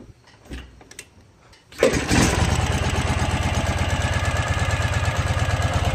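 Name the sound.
motorcycle engine starting and idling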